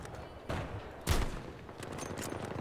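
Sniper fire from an M98B rifle in Battlefield 2042, two sharp single shots about half a second apart amid busy battle noise, the second louder and closer, with no talk.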